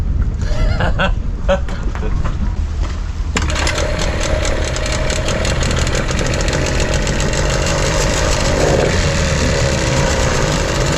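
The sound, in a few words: boat engine idling a little fast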